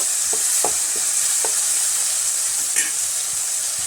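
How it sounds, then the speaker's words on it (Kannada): Food frying in a pan with tomato and turmeric, a steady bright sizzle throughout with several soft scraping stirs of a spoon, close and alone without talk. "ಎಲ್ಲ ಐಟಮ್ಸ್ಗಳು ಅವೆಲ್ಲ ಕರಿಬೇಕು"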